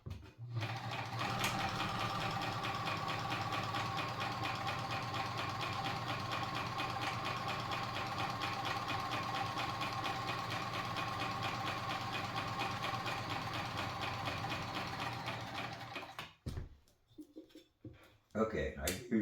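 A Kenmore 148.19370 sewing machine runs steadily at the widest zigzag stitch, a fast, even mechanical chatter with a regular needle-beat rhythm that continues for about sixteen seconds before stopping, followed by a few faint handling clicks.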